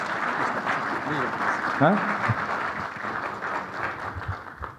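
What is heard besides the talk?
audience applause at conference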